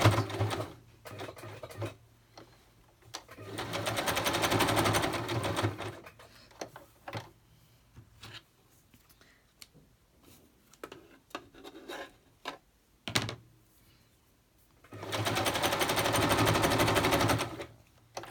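A sewing machine runs a zigzag stitch on a junk journal, with two long, steady, rapid mechanical runs separated by quieter stretches of handling, rustling and the odd click, all close by.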